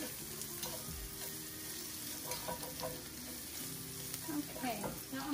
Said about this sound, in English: now we're going to add the garlic